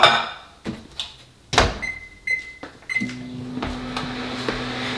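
A microwave oven heating carb-free bread: a door clunk and several keypad beeps, then a low steady hum of the oven running, with a few faint clicks and knocks around it.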